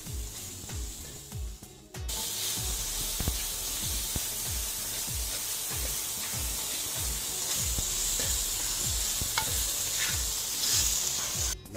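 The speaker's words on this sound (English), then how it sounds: "Let us stir and mix all these ingredients together so that they get coated nicely by the hot oil and the salt" Garlic cloves and salt are stirred in hot oil, giving a constant loud sizzle and hiss with repeated scraping strokes of the spoon against the pan in a steady rhythm.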